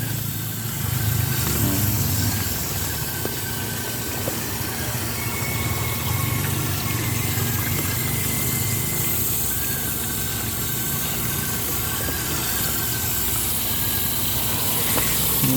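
A Sunsun JTP-5800 water pump running for a hydroponic lettuce garden, a steady motor hum with low vibration that drones evenly and unbroken at moderate loudness, no voices over it.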